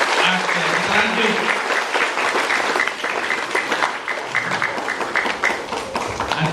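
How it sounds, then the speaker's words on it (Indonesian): A crowd applauds loudly and continuously, with some voices mixed in beneath the clapping. "Tepuk tangan untuk saya, Pak."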